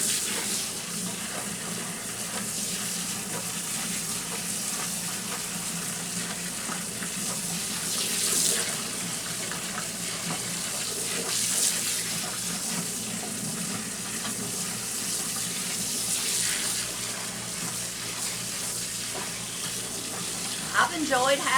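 Water runs steadily into a Washwoman Jr portable washing machine outdoors, a continuous splashing hiss at moderate level with slight swells, no talk over it.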